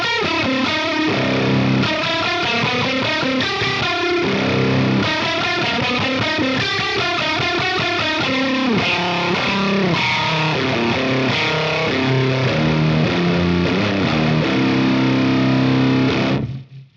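Heavily fuzzed electric guitar runs through a DemonFX OTA phaser set to an extreme, ring-modulator-like sweep. It plays loud and dense for about sixteen seconds of continuous chords and riffs, then cuts off abruptly.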